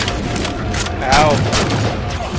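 Sniper rifle gunfire in a Halo 4 Spartan Ops firefight: dense, continuous bursts of shots and blasts fill the scene, with game voice sounds mixed in.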